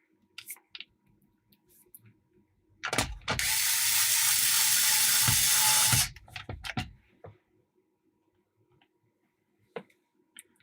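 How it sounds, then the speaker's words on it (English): An electric screwdriver whirs steadily for about three seconds while driving original screws back into a Game Gear handheld, framed by close clicks and ratcheting taps of parts being handled. "Let's get the last original screws back in."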